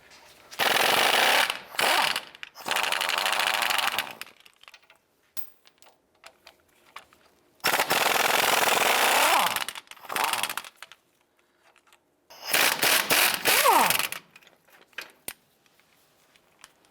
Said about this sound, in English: Using a 15mm socket, we're going to go ahead and remove this hub bolt here